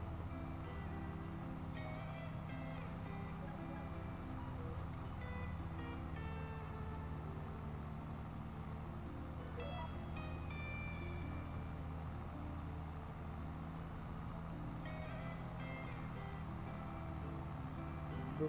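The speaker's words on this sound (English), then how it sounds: "You can actually hear the tractor in the cab." A tractor engine drones steadily from inside the closed cab during field work, a low constant hum with faint higher tonal whines rising and falling now and then.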